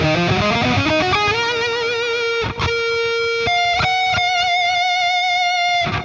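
Electric guitar solo through an amp, sliding up into long sustained bends and picked notes, loud and alone with no talking.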